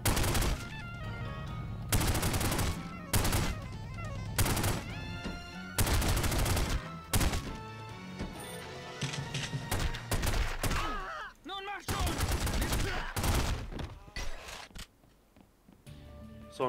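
Gunfire from The Godfather video game comes in repeated loud bursts and single shots, separated by short gaps, with brief game sounds between volleys.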